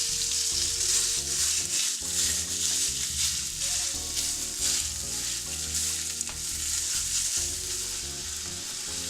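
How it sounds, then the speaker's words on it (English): Bulk sausage browns in olive oil in a hot skillet with a loud, continuous crackling sizzle up close, joined by intermittent stirring and scraping, no talking. "Now I've added some olive oil to a hot skillet and I'm going to brown off that bulk sausage."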